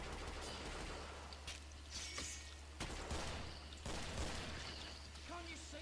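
Gunfire in the zombie-shooter game Killing Floor, rapid shots crackling through a dense, noisy mix of game effects and a steady low hum, with some talk woven in.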